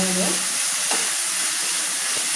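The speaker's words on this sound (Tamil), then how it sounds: "தக்காளியும் வெங்காயமும் நல்லா வதங்கணும்" Tomatoes and onions sizzling steadily in hot oil for a tangy Tamil tamarind curry, a loud continuous hiss with a brief stir near the start and no talk.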